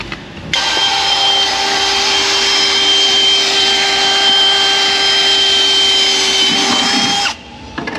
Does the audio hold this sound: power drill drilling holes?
yes